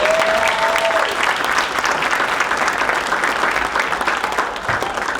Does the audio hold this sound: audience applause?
yes